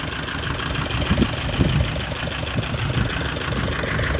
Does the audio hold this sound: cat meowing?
no